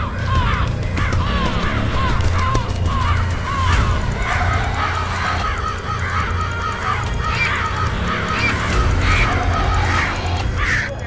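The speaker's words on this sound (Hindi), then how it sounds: "इतने सारे चील, this is not a good sign" Many kites call together over a city neighbourhood, a dense, continuous chorus of shrill cries repeating throughout, loud and close, layered over low rumbling background noise.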